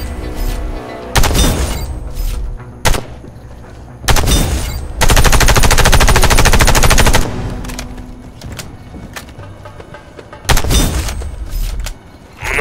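Automatic weapons fire at targets on a shooting range in the video game Warface: several loud, sharp bursts of rapid gunfire, one sustained for about two seconds, separated by quiet pauses and ending with another short volley.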